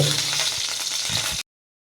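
Steady, loud sizzling of hot coconut oil in a pan, continuous and close, with faint stirring scrapes before cutting off abruptly.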